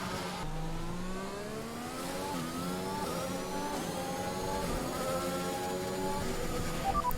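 A Formula 1 car accelerates hard at the Monaco Grand Prix in the F1 2021 video game. The engine's steady, loud whine climbs in pitch through the gears and carries on with no break.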